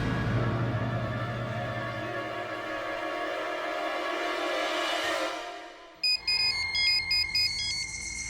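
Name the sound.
phone ringing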